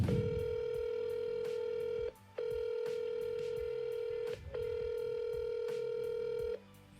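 A phone line rings out when a wireless number is called, giving three long steady ringback tones separated by brief gaps, clear and alone.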